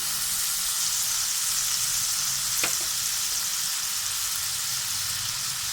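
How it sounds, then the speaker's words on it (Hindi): Chopped onion and tomato fry with cooked chicken in a pan, making a constant close hiss of sizzling oil. A brief clink of a utensil comes midway. "अब हम इसमें चॉप किया हुआ प्याज डालेंगे। चॉप किया हुआ हम इसमें टमाटर डालेंगे।"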